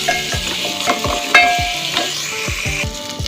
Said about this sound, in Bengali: এবার এইভাবে নাড়তে থাকবে।